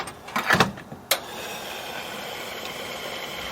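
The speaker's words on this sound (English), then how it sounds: "This is the sound of your engine getting clean." A car engine starts up after a few sharp clunks and clicks, then settles into a steady, fairly quiet running hum with a faint hiss.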